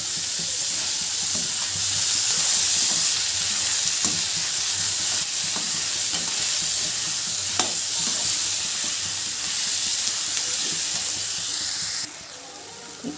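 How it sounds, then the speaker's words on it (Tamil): Tomatoes and onions sauté in a pan for a Tamil egg curry, giving a steady, moderate sizzle with occasional stirring scrapes. The sizzle drops abruptly near the end. "தக்காளி சேர்த்து நல்லா வதக்கிக்கலாம்"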